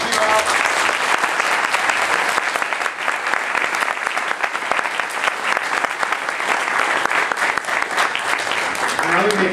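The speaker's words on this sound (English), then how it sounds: "the totally unexpected round of applause that you gave me" A large convention audience at San Diego Comic-Con 2009 applauds steadily, a dense, continuous clatter of many hands clapping that holds at full strength throughout.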